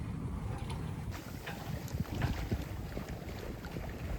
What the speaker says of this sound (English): It's a gusty northwesterly, or westerly actually, so we've got some puffs coming down here in a minute.